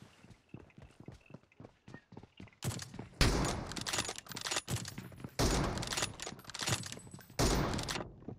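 Rapid gunfire in a shooter video game, quick light taps at first, then loud sustained bursts of automatic fire in several long volleys.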